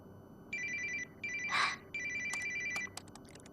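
A phone ringtone plays for an incoming call at night: three bursts of repeating electronic trill, close and clear, with a brief rustle mid-way and quiet moments between the rings.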